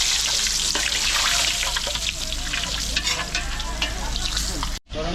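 Fried chicken sizzling in hot oil, prepared while cooking for a reunion in Pampanga; a loud, steady crackling hiss with scattered pops runs continuously, then cuts out briefly near the end.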